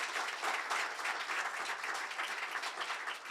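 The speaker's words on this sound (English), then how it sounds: "please give us a round of applause" A live audience applauds at the end of a show in Pune, with dense, sustained clapping from many hands filling the room at a steady level.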